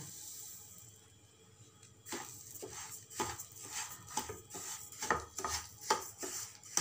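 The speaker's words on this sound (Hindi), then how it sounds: "चलिए रवा को भून लेते हैं" Semolina (rava) roasting in two tablespoons of oil in a pan, stirred with a spoon, gives repeated scraping strokes that start after a quiet moment and continue steadily and close.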